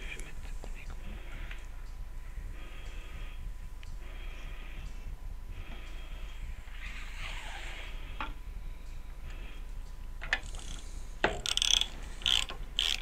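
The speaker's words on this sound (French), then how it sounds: "Je vais mettre l'écrou." A nut is threaded and tightened onto a trailer wheel hub during a seized-bearing replacement. Quiet ratcheting and faint metallic clicks sit over a low background hum, with a few sharper clicks toward the end.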